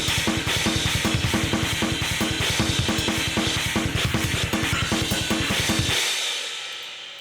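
Lo-fi metal main drum sound font in FL Studio pounds out a fast, steady pattern of kick and snare hits under a dense wash of cymbals, loud and driving for about six seconds before cutting off into a fading tail.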